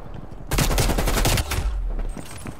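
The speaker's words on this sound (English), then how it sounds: "I shot his head, bro!" Rapid burst of gunfire in a first-person shooter video game, a loud, dense volley lasting about a second, followed by a few scattered trailing shots.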